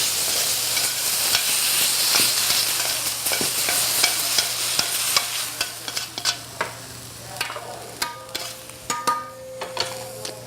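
Venison sizzles in a frying pan, a bright, steady hiss that fades toward the end as scrapes and clinks of the pan and utensil take over, close up with no voices.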